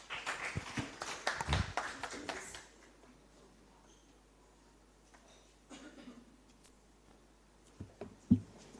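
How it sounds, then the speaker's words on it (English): Applause for a speaker taking the stage at a women's financial markets conference: a burst of clapping in the first three seconds, then a quiet room with a few faint shuffles and taps. "A round of applause for Farai."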